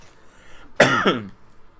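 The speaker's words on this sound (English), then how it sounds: "sorry guys about the cough" A single short, harsh cough from a person during a live stream, sharp and close to the microphone, with faint background quiet before and after.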